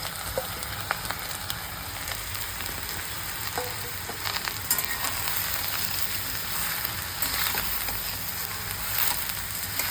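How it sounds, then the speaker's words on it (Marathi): Ridge gourd slices sizzle in hot oil with cumin for a Khandeshi bharit, a steady, close crackling hiss that runs throughout with small pops and occasional stirring ticks. "आता आपण त्यात तेल टाकूया, जिरं टाकूया, मग कापलेले गिलक्याचे काप ते टाकून घेऊया."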